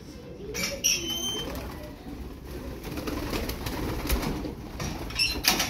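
Pigeons in a loft coo and rustle close by, with soft low calls and brief wing flaps over a murmuring background.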